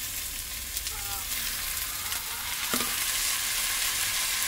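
Turmeric and salt frying in hot oil, a steady bright sizzle with occasional stirring clinks and scrapes, close and continuous.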